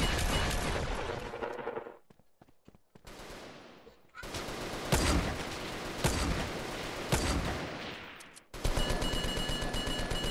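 Rapid bursts of sniper and automatic gunfire in the multiplayer game SA-MP (GTA San Andreas), loud and dense with brief pauses between volleys and faint talk underneath.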